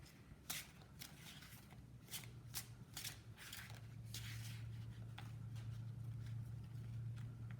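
Tarot cards are shuffled by hand in a quiet room, a run of crisp riffling, flicking and rustling strokes that carries on throughout at close, soft level.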